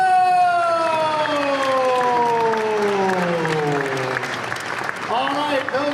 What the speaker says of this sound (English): Another warm round of applause, please.